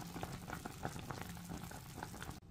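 Chicken boiling in a pot of water, a steady dense bubbling and simmering churn, close and continuous, cutting off abruptly near the end.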